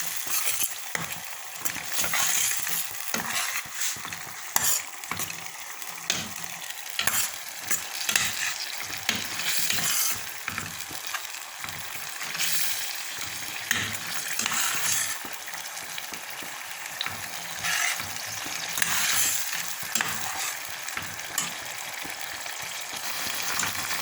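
Egg sauce is stirred in a sizzling pan, a spoon scraping and dragging through it in uneven, repeated strokes over a constant frying hiss, close by and without any voices.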